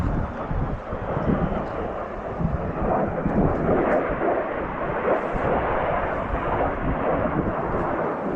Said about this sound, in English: maybe another jet coming over now.